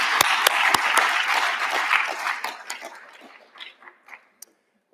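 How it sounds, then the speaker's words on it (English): A conference crowd at a blockchain community event gives a round of applause, dense and loud at first, then thinning into a few scattered claps that fade to silence. "Could I get one more round of applause, though, for our track leads to put on?"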